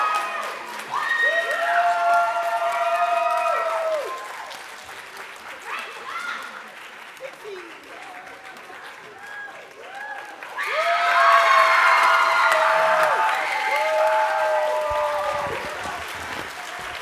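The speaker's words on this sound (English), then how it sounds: "let's hear another round of applause for all the contestants" An audience of parents and students applauds a student contest winner at a school event, with loud sustained clapping swelling again after a brief lull, mixed with some cheering and voices.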